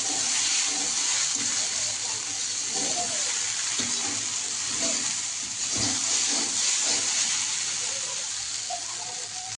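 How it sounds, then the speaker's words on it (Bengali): Okra and potatoes frying together in a wok on a gas stove, giving a constant hissing sizzle with faint occasional stirring knocks, close by and without talk. "এখানে গ্যাসের উনুনের উপরে এক কড়াইতে দেওয়া আছে ঢেঁড়স আর আলু একসঙ্গে করে ভাজা হবে"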